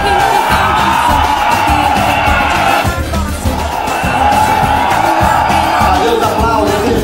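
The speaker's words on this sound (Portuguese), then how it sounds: "Valeu, os aplausos, galera." A large crowd cheers and whoops loudly and continuously at a dance group event in Salvador, a dense wall of voices that dips briefly near the middle before surging again.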